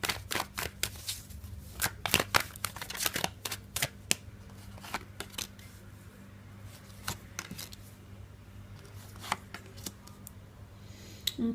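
A deck of tarot cards is shuffled close up in a quiet room, giving repeated crisp riffling bursts and soft slaps that come in uneven clusters over about eleven seconds, with no voice.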